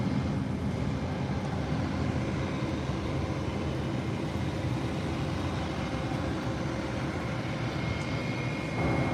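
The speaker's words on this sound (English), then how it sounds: "Early takeoff. There you go. In the skies. Another beautiful departure." A fixed-wing airliner departs in a steady, broad roar of jet engines at an airport. The sound is sustained and fairly distant, with no talking.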